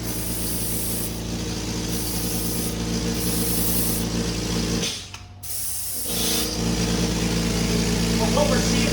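An air-assisted Graco FinishPro II 395 paint sprayer running at about 2,000 psi fluid pressure and 20 psi of air gives a loud, steady hiss that cuts out briefly and then resumes.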